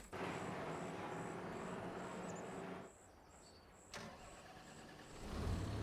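A tractor engine in the Farming Simulator 25 video game runs steadily at a close, loud level, drops away briefly, then comes back and swells toward the end, with no talking over it.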